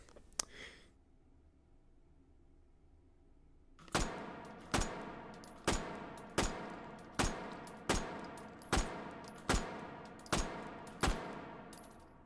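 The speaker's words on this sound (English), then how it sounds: "this pistol is the Bergmann No5. It's an early semi-automatic pistol" Bergmann No5 early semi-automatic pistol fired in the VR shooter Hot Dogs, Horseshoes and Hand Grenades: after a silent pause, about eleven crisp, evenly paced shots ring out close and loud, each with a short metallic tail.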